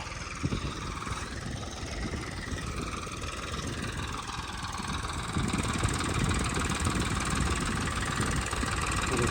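A tractor engine runs steadily in a field prepared for potato sowing, a loud, close, continuous rumble that grows slightly louder and heavier partway through, with no voices.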